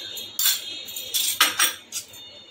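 Chicken being mixed by hand with yogurt and spices in a bowl, giving soft, wet clinks and scrapes in short irregular bursts, close up and fairly quiet, with no talking.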